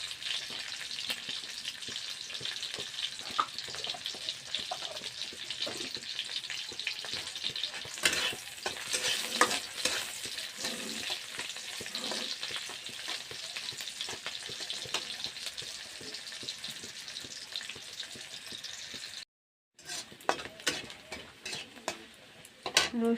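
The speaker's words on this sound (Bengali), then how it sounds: "রসুন শুকনো লঙ্কাটা ভাজা ভাজা হয়ে গেছে।" Garlic and dried red chillies fry in hot oil with a steady, bright sizzle, broken by occasional stirring and scraping of a utensil in the pan and a brief gap near the end.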